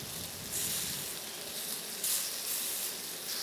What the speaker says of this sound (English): is turning back clear now and cooking down in the grease just like bacon should